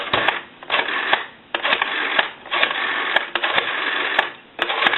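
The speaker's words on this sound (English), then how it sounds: "You notice the rotary is returning at the proper rate now." Rotary telephone dial spinning back after each number, a telephone under repair. Repeated whirring, clicking bursts, each lasting about a second, separated by brief pauses, fairly loud and close, band-limited like a phone line.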